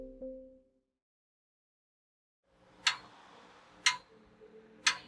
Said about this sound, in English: a grandfather clock gives beat to many a grandmother's craft